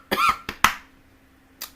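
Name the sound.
cough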